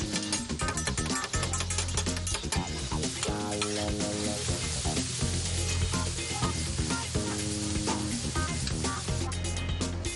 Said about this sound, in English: Ben's piping hot dishes are all prepared on the spot.